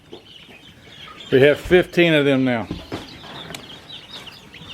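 Chickens cluck and squawk nearby in a short, loud run of calls while a person speaks briefly.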